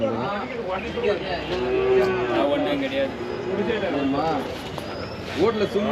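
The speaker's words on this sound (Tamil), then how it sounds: "எல்லாமே பசு மாடுங்க நாட்டு பசு மாடுங்க" Native cows at a cattle market, moos rising from a crowded, murmuring yard, heard under someone talking close by.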